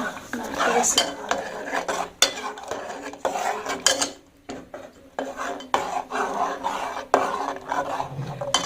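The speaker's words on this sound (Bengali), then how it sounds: "এখন এটা এই পাত্রে ঢেলে দেব" Beetroot payesh is transferred from a pan into another pot, with close clattering, scraping and clinking of a metal utensil against cookware in uneven bursts.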